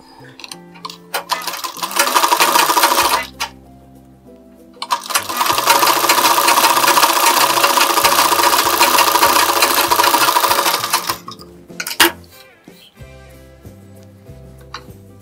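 A sewing machine stitching a blouse lining runs in two long, loud, steady bursts of rapid whirring and ticking, separated by short pauses and followed by a few brief starts, close by with no talking.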